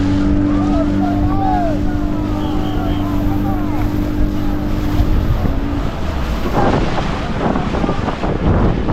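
A speedboat races across the sea near the shore at Digha, with a loud, continuous engine drone, heavy wind buffeting the microphone and water rushing past, and a voice talking over it early on.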